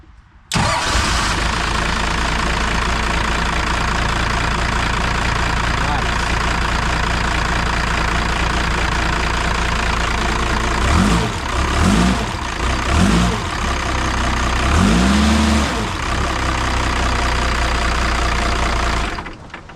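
Junk forklift engine cranks and fires, then settles into a steady, loud running idle with a few revs and some knocking roughness; a voice talks briefly over it.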